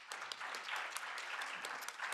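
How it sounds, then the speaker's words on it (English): An audience at a workshop on fair minimum wages for workers in Europe gives warm applause to the speakers: steady, moderately distant clapping throughout a brief stretch. "Can you give very warm applause, please?"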